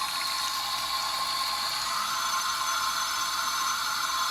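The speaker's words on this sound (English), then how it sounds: "We're going to rinse with the direction that the rods were rolled, and we're going to use warm water with low pressure." Warm, low-pressure water runs steadily from a shower sprayer while permed men's hair is rinsed in the direction the rods were rolled, a constant close hiss with no talk.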